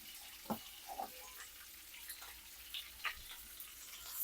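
Sliced onion and green chilli fry quietly in oil for chicken pulao, a faint, soft sizzle with a few light clinks and stirring knocks scattered through.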